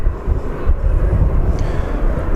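A Qatar Airways Airbus A350 touches down at DFW Airport, its engine roar loud and steady throughout, a broad continuous rumble with no voices.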